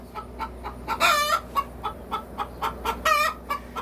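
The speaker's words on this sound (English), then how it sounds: "That's a pretty chicken." A chicken clucks close by in a rhythmic run of short clucks, with two longer drawn-out calls partway through, over a low background hum.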